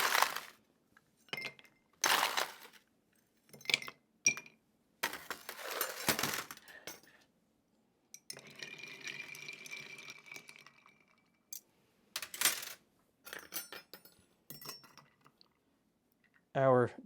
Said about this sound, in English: I think I can ice and stir these 2 at the same time.